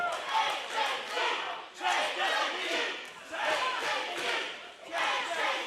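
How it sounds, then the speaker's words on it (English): A crowd of wrestling fans at an OVW event chants and cheers in loud rhythmic surges, with a roughly one-second swell-and-dip pattern filling the arena. "the fans cheering for AJZ"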